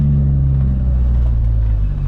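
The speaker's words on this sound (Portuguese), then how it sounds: "Aqui eu tô acelerando só um pouquinho. Tô tirando o pé da embreagem devagar." A 1988 Chevrolet Diplomata's American engine is revved gently as the clutch is slowly released, giving a steady, close, deep rumble that holds even throughout.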